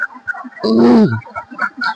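Ducks kept in a small confined enclosure on a backyard duck farm: one loud, drawn-out call stands out close by, with softer scattered calls from the flock around it.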